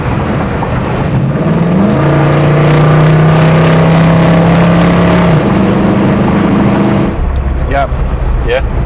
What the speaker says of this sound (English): Now let me see what the passing gear do.